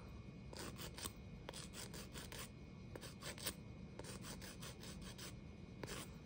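An artificial nail tip has its edge filed down, quiet rasping strokes in quick bursts of three or four, pausing between sets, close and soft over a faint background hiss.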